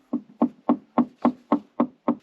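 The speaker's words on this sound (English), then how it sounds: "Go another 2 feet and knock." Eight loud, evenly spaced knocks on a crawl space floor, struck about every quarter second to locate a footing beneath, each a sharp thud with a short decay and no voices.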